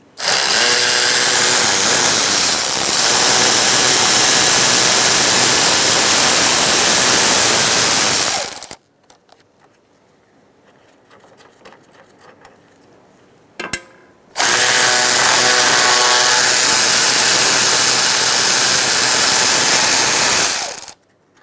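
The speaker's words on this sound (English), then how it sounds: "Using a 13mm socket, I'm going to take out the two top bolts for the radiator." A power driver with a 13mm socket loosens radiator bolts on a 2007-2017 Ford Expedition in two loud, sustained whirring bursts. A quiet stretch with faint clicks separates them.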